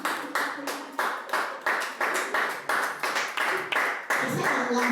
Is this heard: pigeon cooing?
no